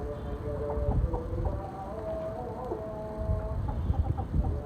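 Chickens kept in a rooftop coop originally built for pigeons give a steady mix of clucks and short calls, fairly close and continuous, with some scuffling underneath and no talking.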